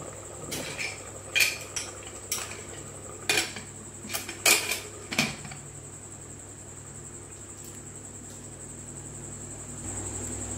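Chicken stew being plated at the stove, with a series of sharp, clear clinks of dishes and cutlery over a few seconds, then quiet room tone with a steady high insect-like hum.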